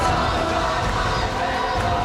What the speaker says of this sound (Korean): 성회에 모인 4만 명의 성도들은 승리의 함성을 외치듯 소리 높여 찬양합니다.